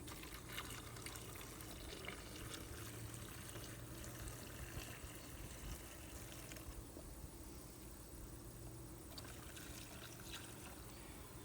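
Half a gallon of nectar poured from a one-gallon pitcher into a beehive feeder: a steady, continuous splashing pour that runs close and unbroken for the whole stretch.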